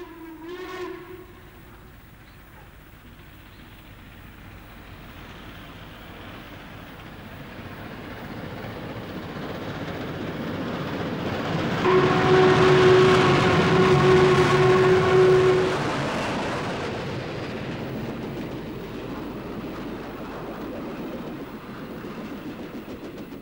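A steam train pulls away on an excursion run: a short whistle blast opens, then a rising chuffing rumble swells and builds, a long steady whistle sounds midway, and the noise slowly fades as the train moves off.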